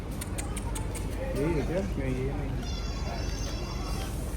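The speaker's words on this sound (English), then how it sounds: "there's one cat." A pet cat at home gives a couple of soft meows in the middle, under constant background noise and nearby people talking.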